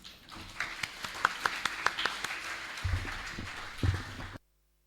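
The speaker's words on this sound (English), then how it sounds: "A great round of applause." Scattered, fairly light hand clapping from an audience at a leadership summit, with distinct individual claps in an uneven rhythm for about four seconds before cutting to silence.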